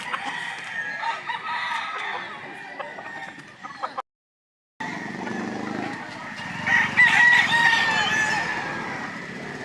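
Roosters crow loudly over steady clucking and chatter of many chickens at a market, with a brief gap of silence partway through.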